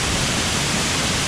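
A waterfall throws heavy spray near Guadalupe, Colombia. The rushing roar is loud, close and constant, with no other sound through the whole brief stretch.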